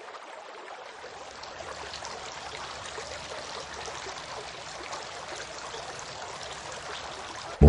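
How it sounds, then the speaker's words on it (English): Water pours in a steady trickling stream over hands being washed for ablution, close and continuous, ending in a brief bump. "poured water on his hands and washed them 3 times"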